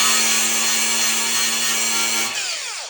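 A power sander works a car body panel on a square-body vehicle, a loud, steady, close whirring grind that holds for about two seconds and then winds down.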